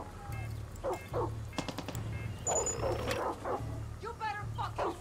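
A dog barks and yips repeatedly during Far Cry 6 gameplay, short clustered barks over a pulsing low drone, with someone talking in between.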